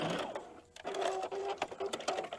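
Sewing machine stitching a paper-pieced quilt block with a tree design, a steady close whirring hum of the needle running in short bursts with brief pauses, heard alone.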